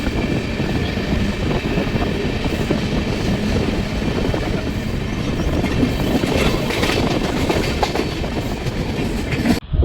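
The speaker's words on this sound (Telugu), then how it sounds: "ట్రైన్ అయితే మాత్రం ఒక రేంజ్లో వెళ్తున్నారు" Ratnachal Express, train 12718, on its first run with new LHB coaches between Vijayawada and Visakhapatnam, rushing along at speed through green fields; a steady loud roar of wheels and rails with faint clickety-clack and wind noise throughout, no talking.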